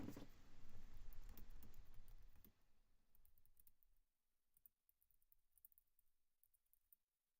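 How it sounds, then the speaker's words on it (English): Quiet, rapid clicking of computer keyboard keys being typed in bursts, denser early on, then thinning into sparse taps and pauses, close to the mic. "You guys get some typing ASMR for the moment"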